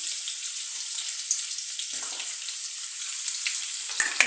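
Onion, chili and garlic sizzle steadily in hot oil in a pan while being stirred, a continuous bright crackle with a few scraping bumps from the spoon and no talking.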